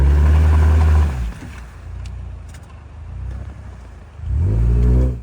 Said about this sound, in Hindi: ये 4x4 हाई लगा हुआ था तो इसीलिए इतनी आसानी से मुड़ गई है।